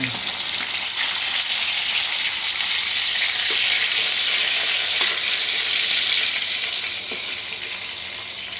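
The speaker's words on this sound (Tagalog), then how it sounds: "Ayan, nagpipirito po tayo ng galunggong." Galunggong, round scad fish, fry in a pan with a continuous bright, hissing sizzle close by, steady throughout and fading slightly toward the end, with a few faint clicks underneath.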